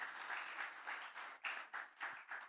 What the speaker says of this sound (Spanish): ¿Cuántos le pueden dar un aplauso al Señor, hermanos?